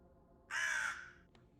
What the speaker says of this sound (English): I hear your crow.